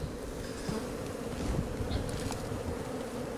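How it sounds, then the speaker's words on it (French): Honeybees buzz in a steady, dense drone from a well-populated hive just opened, a continuous close hum with no talking over it. "C'est une ruche bien colonisée."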